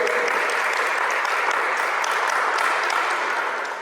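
Audience applause at a Students for Liberty event in Central America, a steady dense wash of many hands clapping, loud and continuous throughout, tapering slightly at the end.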